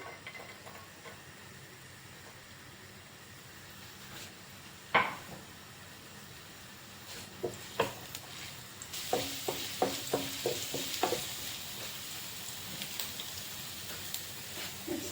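Chopped ginger and garlic drop into hot oil in a pan, bursting into a soft, steady sizzle with a few scattered spits and stirring taps, fairly faint and with no talking.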